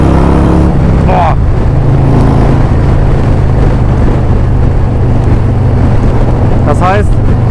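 A Harley-Davidson Road Glide with a Screamin Eagle Stage 4 engine runs loud and close in a deep, steady rumble, with brief revs near the start and end, while someone talks over it.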